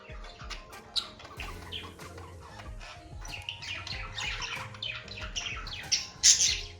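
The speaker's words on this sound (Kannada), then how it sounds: "ಈ ಕೋಗಿಲಿ ಕೂಗುತ್ತಲ್ಲ ಆ ಥರ." Birdsong with repeated bright chirps and squawky calls, presented as an example of the kind of song a koel sings, fairly loud and close over steady background activity, with no talking.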